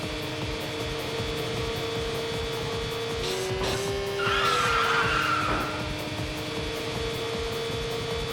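Nissan GT-R in the Initial D Special Stage video game, steady engine drone with a tire squeal rising for a couple of seconds midway, music and game sounds underneath.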